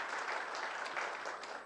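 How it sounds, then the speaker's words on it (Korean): Steady clapping from a crowd at a ceremony, a dense patter of many hands, moderately loud and continuous. "한번 일어나서 박수 한번 받으십시오"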